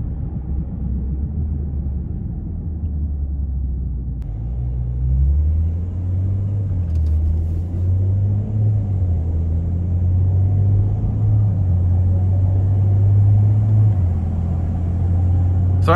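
2017 Maserati Ghibli SQ4 driving in ICE mode, a steady low engine rumble heard from inside the cabin that builds gradually, with smooth, muted gear shifts and a drone that rises and falls, close and with no talking.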